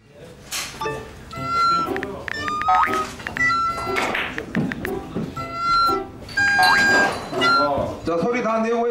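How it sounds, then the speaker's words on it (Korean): A friendly cat meows repeatedly up close on a Korean drama set, several bright, tonal mews in a row, with people talking around it. "정말 착한 고양이를 만났어요"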